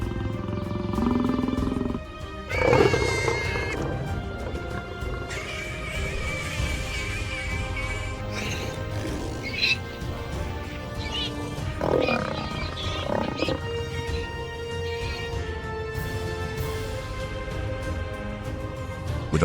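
A lioness attacks warthogs in the Nigerian bush, with low growls and roaring bursts, scattered squeals and scuffling, moderately loud and uneven over about twenty seconds.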